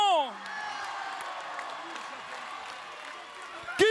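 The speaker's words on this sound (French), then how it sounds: "Applaudissements, mesdames, messieurs, du bruit pour la section!" An outdoor crowd at a public square gathering applauds and cheers in a steady, distant-sounding wash of clapping and voices, with a voice speaking at the start and end.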